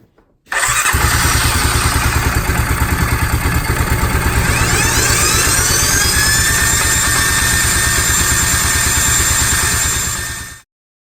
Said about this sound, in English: it has a bearing sound, like a one-way bearing that's squealing is what I think it is